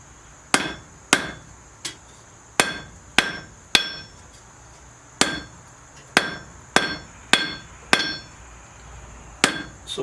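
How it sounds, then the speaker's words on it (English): A blacksmith's hammer strikes hot metal on an anvil in about sixteen sharp, ringing blows, some coming in quick pairs, each leaving a brief metallic ring. The blows are close and clear, with no talk. "If you hit with the edge like this, it's going to make a point"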